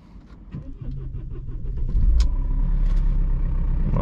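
A Mercedes-Benz car engine cranks with a series of short starter pulses, then catches and settles into a steady, loud idle close by, with no talking.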